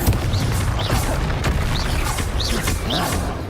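Bombarda and Confringo spells bursting in Hogwarts Legacy, a dense, loud, continuous barrage of blasts and crackling impacts with short whistling chirps layered on top.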